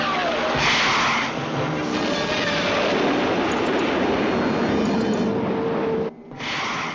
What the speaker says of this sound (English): She's delta-winged, high-tail plane.